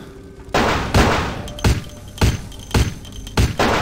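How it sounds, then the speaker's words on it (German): A rapid series of loud, sharp video game gunshots from Vampire: The Masquerade – Bloodlines, about six booming blasts spaced roughly half a second apart, each with a short decaying tail, with no voices. "Unser letzter Schuss mit der Waffe"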